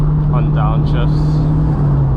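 A Mk2 car driving Franschhoek Pass, its engine humming loud and steady at constant pitch with brief rising tonal whines, while someone talks over it.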